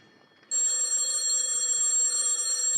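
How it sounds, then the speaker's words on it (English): Telephone ringing in an office scene of a radio drama, a loud, bright electric bell that starts abruptly after a short quiet moment and rings on steadily, close and alone. "Telephone's ringing, Danny."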